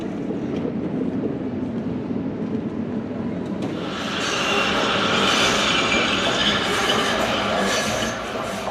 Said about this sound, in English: the metro winds its way up into the hills high above the city